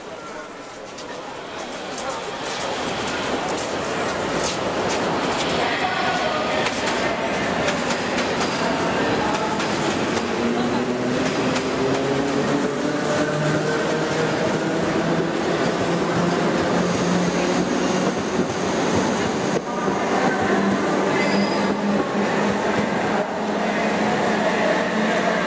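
A Reko S-Bahn commuter train of the Berlin Reichsbahn, class 276, bound for Mahlsdorf in East Berlin, runs steadily and loudly with a continuous rolling rumble and wheel noise, and a voice speaks over it.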